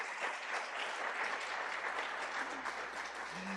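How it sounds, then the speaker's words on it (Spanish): A church congregation applauds steadily and loudly, a dense wash of clapping from many hands that holds evenly throughout, with a brief tonal murmur near the end. "Dele un aplauso al Señor."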